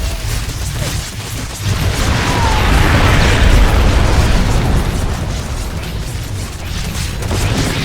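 A gun turret blown apart in StarCraft II, heard as a loud, continuous roar of explosive rumble and crackling bursts filling several seconds without pause.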